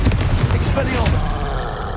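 Expelliarmus disarming spell cast in the Hogwarts Legacy video game, heard as a dense run of sharp magical blasts and rumbling bursts, loud and continuous over about two seconds.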